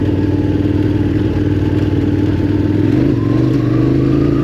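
KTM 1290 Adventure R motorcycle engine running hard on Australian bush trails, a loud steady drone with wavering pitch and faint clatter as traction control cuts in and the revs shift.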